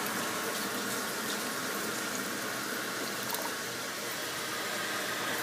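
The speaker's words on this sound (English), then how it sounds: "So I'm going to add a little bit more water." Steady, even rush of water pouring from a tap into a pot, continuous and close, with no talking.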